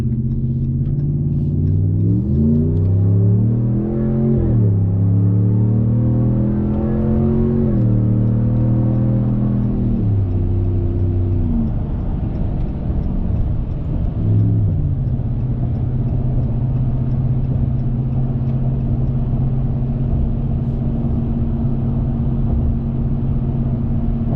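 A 2019 Ram 1500 pickup truck engine revs up through rising gears, pulling hard up a highway ramp at night, then settles into a steady loud drone with exhaust, road and wind rumble.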